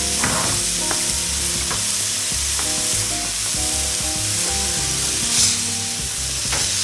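Burger patties cook in a hot pan with a loud, continuous close sizzle, broken by a few clinks and scrapes of a utensil against the pan, with no voices.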